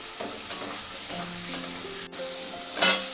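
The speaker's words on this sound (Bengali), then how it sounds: "এবার আমি আলুগুলোকে হালকা করে একটু ভেজে নেব" Potatoes fry in a pan with oil and five-spice seasoning, giving a steady soft sizzle broken by several sharp stirring clinks and scrapes of a utensil against the pan.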